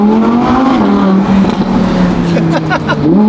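A Ferrari Monza SP2, a windshield-less V12 special-edition car, revving hard nearby, its engine note climbing and falling with crackling exhaust pops and a roaring, sustained tone, under brief talk.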